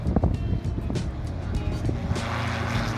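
Czech SportCruiser light aircraft rolling down the runway for takeoff at Santa Monica, its engine a loud steady drone mixed with wind and rumbling thumps from the wheels, close up and continuous.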